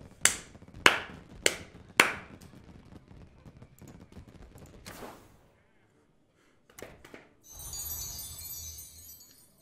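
Four sharp hand claps in a steady rhythm, close and loud, celebrating a twelve-win run in a Duels card game, followed by quieter scattered taps and a soft hiss.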